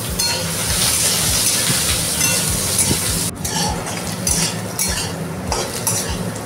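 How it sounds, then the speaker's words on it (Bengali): Small chopped potatoes fry in hot oil, a loud, steady, close-up sizzle with scraping and clinking from a spatula stirring them throughout. "এবার তেলের উপরে দিয়ে ভালো করে ভেজে নেব।"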